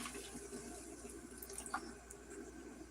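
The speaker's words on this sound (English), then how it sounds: "I need to put a little more water in here." Water runs from a tap to top up a container, a soft continuous trickle and splash heard faintly in the background with a few small clinks, no speech.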